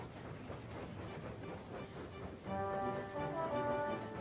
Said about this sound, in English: Edward puffed across the countryside.